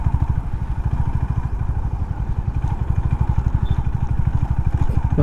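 A Honda CB350RS single-cylinder motorcycle is ridden on a lightly rough, wet track, its engine thumping in a fast, steady, close-up beat without a break.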